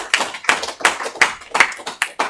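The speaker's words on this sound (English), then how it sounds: "Let's give them a hand." An audience at a medical journal club debate claps in a sparse, uneven rhythm, seven or eight distinct hand claps standing out loudly and close rather than a dense ovation.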